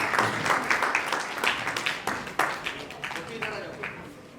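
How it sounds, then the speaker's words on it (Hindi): Audience at a theatre festival honour ceremony applauding, steady clapping with a few sharper peaks, heard under someone talking over a microphone throughout. "दर्शकों से अनुरोध है सम्मान में तालियां बजाएं, जोरदार तालियां।"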